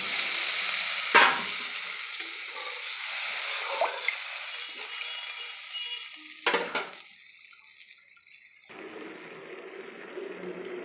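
Ground cumin and coriander spice mix frying in a pan, a moderate crackling sizzle broken by a couple of sharp stirring scrapes and a brief quieter patch before the frying resumes.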